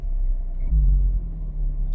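An Acura Integra Type S engine idles with a deep, steady rumble, briefly swelling louder before settling back to a low throb.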